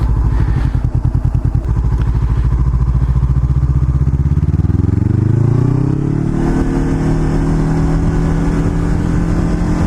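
Steady, loud engine drone from a 2017 Honda CBR500R motorcycle on the road, with a fast pulsing note at first, then a rising pitch as it accelerates and settles into a continuous higher hum.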